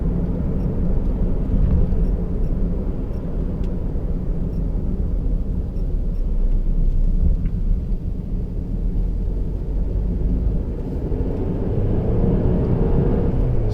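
Steady low road and engine rumble inside a 2017 Mercedes C200 AMG cruising in comfort mode, a smooth continuous drone with no speech.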